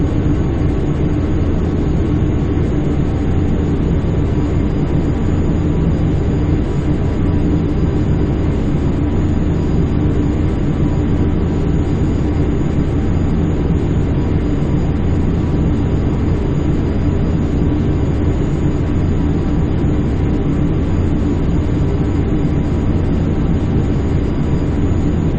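Steady jet engine thrust at about 50% N1 inside Microsoft Flight Simulator X, a continuous broad roar with a deep low rumble and a thin high whine, holding level and unchanging throughout with no voices.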